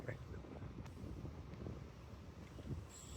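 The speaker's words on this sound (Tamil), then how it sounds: "நல்லா காற்றடிக்குது மக்களே." Strong daytime wind blows outdoors beside rice paddy fields along a trucking route, buffeting the microphone with a low, uneven rumble.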